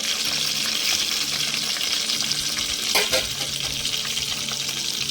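Onions sizzle steadily in hot oil in a pan, a dense close crackling hiss that stays loud throughout with one brief stirring swell near the middle, and no voices.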